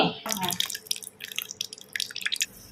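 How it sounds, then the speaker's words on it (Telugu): Raw milk poured into sweetened yogurt for a mango lassi, a short close splashing and dripping pour with brief trickling bursts. "ఇందులో పచ్చిపాలే నేను వేసేస్తున్నాను"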